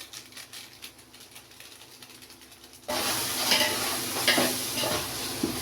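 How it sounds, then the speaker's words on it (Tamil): Onion, tomato and biryani masala sauté in a pan, starting with a faint stirring rustle that turns suddenly into a louder, continuous sizzle with scraping and a few clinks, and no voices. "பிரியாணி மசாலா வெங்காயம் தக்காளி இது மட்டும் போட்டு வதக்கிட்டுருக்கேன்"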